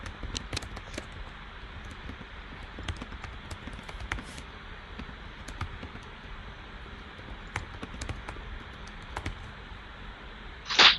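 Search term typed on a computer keyboard and followed by a mouse click, heard as scattered, fairly quiet key taps close by in an uneven rhythm, ending in a louder burst of clicking, with no voices.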